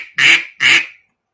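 A duck call blown to imitate a duck: two short, loud, nasal quacks close together, close to the call, then silence.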